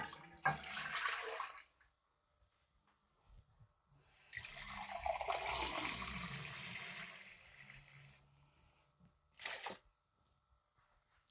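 Cold water from jugs runs and pours in two bursts, a short splash and then a longer, filling stream, with quiet gaps and a final brief gush.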